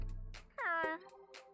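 A Pokémon gives a single short meow in the Detective Pikachu video game, a faint rising-then-falling cat-like call heard alone.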